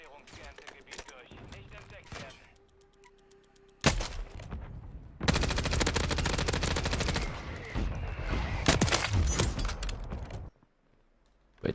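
Bursts of automatic gunfire from a Warzone match, clustered in loud rapid volleys separated by quieter stretches, with a player's voice talking now and then between the shots.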